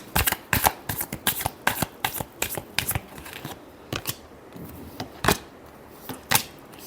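A deck of tarot cards is shuffled close by in quick riffling bursts, the rapid snaps slowing into a few separate flicks toward the end.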